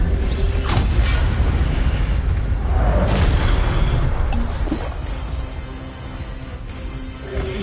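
A spell effect in a wizard video game booms out with a deep, rumbling blast, loud and dense at first, then easing into a lower, lingering roar with scattered pops.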